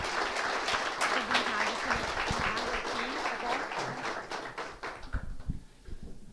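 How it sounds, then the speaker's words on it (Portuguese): An audience at an evening talk event gives a speaker a round of applause, dense clapping that fills the room before thinning out and fading near the end, with a few voices mixed in. "Palmas para o Felipe aí, gente."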